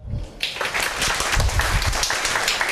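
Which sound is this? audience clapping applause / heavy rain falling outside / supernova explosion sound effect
audience clapping applause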